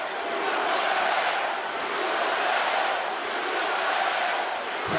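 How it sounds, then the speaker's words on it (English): A fight arena crowd roars in a steady, dense wall of cheering and shouting in support of Poirier, loud and unbroken for several seconds. "Crowd trying to get behind Poirier"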